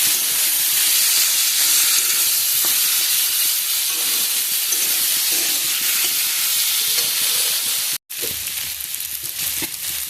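Water poured into spices frying in a wok hisses loudly with steam and sizzle, a broad, close rush that cuts out sharply and resumes as a softer bubbling crackle.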